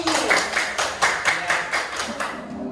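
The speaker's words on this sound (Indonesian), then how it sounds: "tepuk tangan bagi kelompok tsunami" Students in a classroom clapping for a group named Tsunami, rhythmic unison claps in a steady beat of about eight strokes, fairly close and moderately loud.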